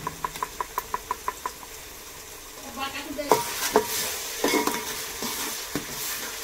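Onions fry in a pan for a mutton curry. A quick run of regular metallic taps opens the clip, then a hissing sizzle rises under scraping, uneven stirring strokes, close and fairly quiet.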